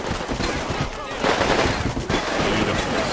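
Machine gun fire rattles in the Combat Mission video game, dense overlapping bursts and distant shots crackling steadily throughout, loud and continuous.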